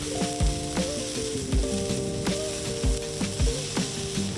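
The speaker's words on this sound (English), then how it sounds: "Then add in your onions. Let them soften a little bit. Stir the onion." Onions softening in oil for lasagna, stirred in a pan: a close sizzle under regular scraping strokes of the spoon, with about five or six rhythmic knocks and clatters across the few seconds.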